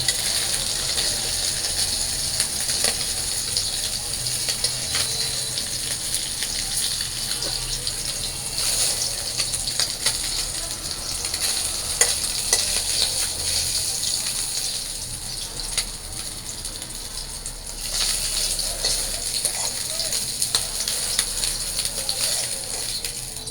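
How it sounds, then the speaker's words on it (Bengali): Potatoes and vegetable stems fry in a pan with oil, for pabda fish curry, giving a steady, dense sizzle and crackle that runs throughout at a fairly loud, even level without talk. "পাবদা মাছ রান্না করার জন্য আমি এখন ডাটা আলুগুলো ভাজা নেই"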